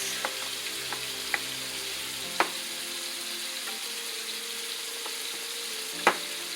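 Lasagna filling with basil and oregano is stirred in a bowl, giving a soft continuous rustling texture with a few light clinks of the utensil, close and quiet, with no speech.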